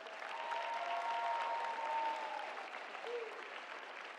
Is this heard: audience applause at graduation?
yes